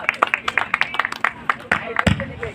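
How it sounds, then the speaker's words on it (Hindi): Scattered, uneven clapping from an audience at a Hindi poetry gathering, sharp individual claps in loose rhythm mixed with a voice speaking over them. "जोरदार तालियां होनी चाहिए"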